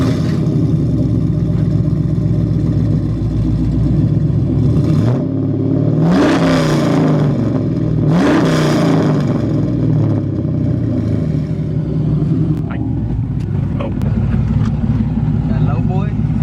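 An LS-swapped Nissan 300ZX drift car engine idles loudly throughout, with two strong rising rev blips in the middle and lighter blips later, under someone talking.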